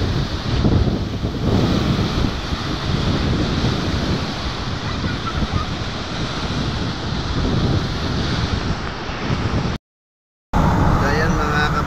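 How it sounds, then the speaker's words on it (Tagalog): Strong wind buffets the microphone over a steady roar of crashing waves at a beach, loud and continuous, with a brief dropout near the end. "malakas ang hangin, malakas ang alon."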